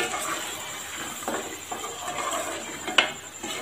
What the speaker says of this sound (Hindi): अब दोबारा भुनाई करेंगे।